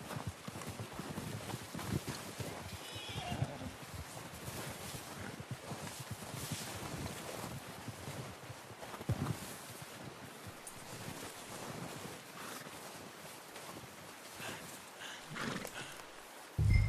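Hooves clip-clop steadily as a horse walks in the video game Red Dead Redemption 2, the faint rhythmic steps set against outdoor wind noise.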